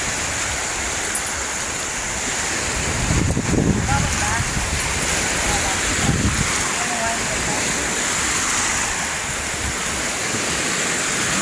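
Ocean waves wash onto a pebble beach at high tide at Kastilyong Bato Beach in Lobo, Batangas, a constant loud roar of surf with a couple of heavier swells rising over steady wind buffeting on the microphone.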